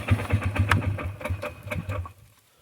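Small engine of a four-wheeler sputtering and trying to catch after a freezing, ice-bound cold start, uneven chugging pulses that fade out after about two seconds; close and fairly loud, with no voices.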